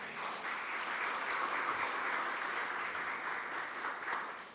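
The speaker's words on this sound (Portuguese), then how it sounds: "Aplaudam o Senhor Jesus." A church congregation applauds together during a Portuguese-language sermon, a steady, even wash of many hands clapping at a modest distance, without speech over it.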